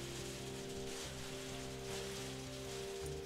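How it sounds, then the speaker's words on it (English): Heavy rain and hail falling on a surface, a dense continuous patter heard alone under a steady musical tone. "It's a hailstorm, says Jack the Cat."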